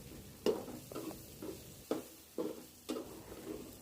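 Cooked masoor dal in a pot is stirred with a spoon, producing about six soft, wet scraping strokes at a steady pace, faint and close with no voices.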